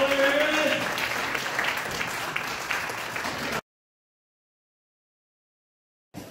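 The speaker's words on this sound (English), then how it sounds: "Please welcome to the stage with another round of applause your headliner this evening, Mike Brody." Audience at a comedy show claps and cheers loudly for the headliner, a dense sustained applause that stops abruptly, followed by silence and a brief return of crowd noise.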